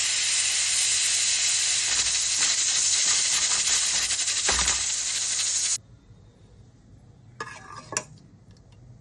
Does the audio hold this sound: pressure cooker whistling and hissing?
yes